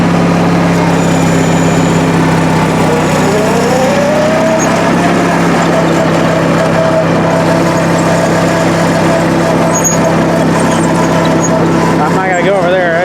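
An Oliver Super 66 tractor engine runs steadily at a low idle in snow, a constant loud drone with a rising pitch sweep partway through as it revs slightly.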